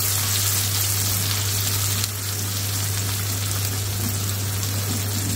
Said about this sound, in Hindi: अनियन को हमने ज्यादा नहीं भूनना, बस हल्का सा इसको फ्लेवर देना है, हल्का सा इसको सौटे करना है